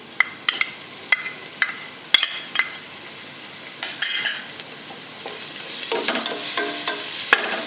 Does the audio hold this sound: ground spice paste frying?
yes